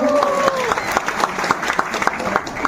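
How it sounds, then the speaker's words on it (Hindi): Stage audience at a Mahila Vikas Manch event in Bihar claps loudly and steadily in a dense, continuous burst of applause, with a crowd murmuring underneath. "मैं चाहता हूँ खान सर के लिए आप सभी एक बार जोरदार ताली बजा दीजिए।"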